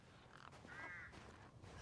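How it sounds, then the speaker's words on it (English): A crow caws once in Resident Evil Village, quiet and distant, a short harsh call with a faint rasp set against a low murmuring game ambience. "I don't see a crow, but I hear a crow."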